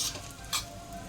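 Asafoetida dropped into hot oil gives a short, soft sizzle with a couple of brief crackling bursts, faint and close, with no voices.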